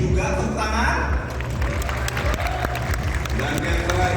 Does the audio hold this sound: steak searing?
no